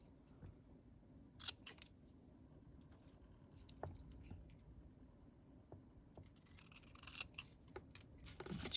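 Scissors cutting white paper scraps, with quiet snips and rustling paper scattered through a soft background, clustering more busily toward the end.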